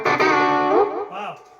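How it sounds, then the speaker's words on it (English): An electric guitar with light overdrive played through a Fender Twin amp rings out in sustained, harmonically rich notes that fade softly over a second and a half, with no talking. "So this is some light dirt on the Fender Twin."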